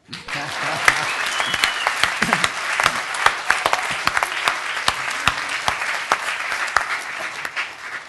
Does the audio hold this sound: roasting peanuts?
no